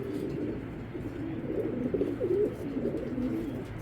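A Belgian racing pigeon gives soft, low, rolling coos, faint but steady over a muffled background hum.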